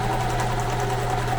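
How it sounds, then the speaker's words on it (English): Sewing machine running a plain half-inch seam down fabric edges, a fast, even mechanical whir with rapid needle chatter, steady and close for the whole moment. "It's just a plain old little seam, about a 1/2 inch, that I'm gonna run down the edges."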